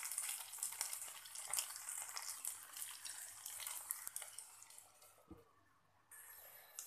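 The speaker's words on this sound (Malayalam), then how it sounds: "നല്ല മീഡിയം ഫ്ലെയിമിൽ വെച്ചിട്ട് ഫ്രൈ ചെയ്തെടുത്താലേ അത് നന്നായിട്ട് ഫ്രൈ ആയിട്ട് കിട്ടുള്ളൂ" Potatoes frying in a pan over a medium flame give a steady, close crackling sizzle with fine bright pops, slowly easing off toward the end, with no talking.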